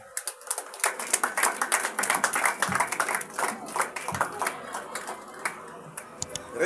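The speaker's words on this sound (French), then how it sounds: "Quand il monte, c'est sous nos applaudissements." An audience at an academic ceremony presenting a university institute's annual report applauds with a dense, sustained patter of many hands that thins out and fades near the end, with faint voices underneath.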